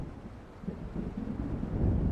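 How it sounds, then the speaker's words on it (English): A deep, low rumble of thunder from an approaching storm in the video game Alan Wake, swelling gradually over a windy background with no talk. "It seems there's a storm coming."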